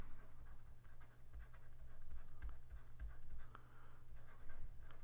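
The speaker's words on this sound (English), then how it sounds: "So let's write our equation down." Pen or chalk writing an equation by hand for a McGill calculus problem, quiet close scratchy strokes in short irregular bursts over a low steady hum.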